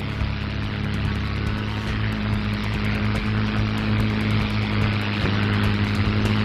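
A P-51 Mustang propeller aircraft takes off, its engine a loud, steady, close droning roar with a strong low hum that holds constant throughout.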